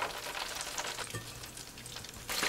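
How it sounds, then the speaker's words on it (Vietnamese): Battered chicken pieces deep-fry in hot oil at about 280 to 300°F, giving a continuous crackling sizzle with fine popping bubbles, close and steady with a brief surge at the end. "Mình chiên lần lượt cho đến hết luôn nè."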